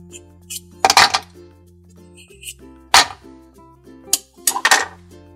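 Toy plastic fruits are dropped into a toy blender, giving a few sharp, hollow clacks and clinks spaced apart, close by, over a faint tonal background.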